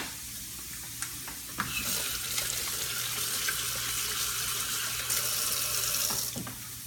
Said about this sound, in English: So now we need to wash our hands because we just touched things and it's raw.